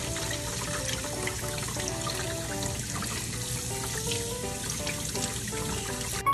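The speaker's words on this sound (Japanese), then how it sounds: "こちらのね、血合いですとか、ね、この内臓の部分を水で洗っていきます。" Running tap water rinses the bloodline and innards of a gutted barracuda, a steady close stream splashing and trickling over the fish in a sink, with no talking.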